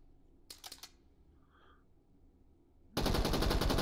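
A submachine gun fires full auto in a short burst of rapid, sharp reports, then after a quiet pause a much louder sustained string of shots runs to the end.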